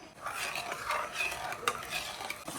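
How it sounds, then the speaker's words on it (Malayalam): Grated coconut stirred in water in a cooking pot makes a steady wet swishing scrape with light clinks of the spoon against the pot, close and continuous, with no talk. "അപ്പോൾ അങ്ങനെ നമ്മൾ വെള്ളത്തിൽ തേങ്ങ ഇട്ട് ഇളക്കി കൊടുത്തിട്ടുണ്ട്"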